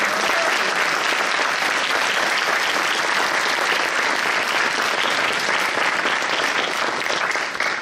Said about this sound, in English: So please join me in applauding her on her this big day.